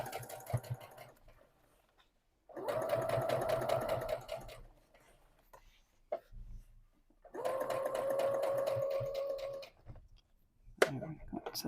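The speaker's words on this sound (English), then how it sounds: "So there'll be 3 lines of sewing around the daisy lace." Sewing machine stitching daisy lace onto the hem of jeans runs in two sustained bursts of steady whirring, close and moderately loud, separated by quiet pauses with small handling noises.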